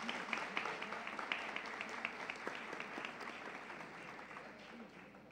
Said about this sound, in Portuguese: Uma salva de palmas para a Tia Wanda, irmã dele.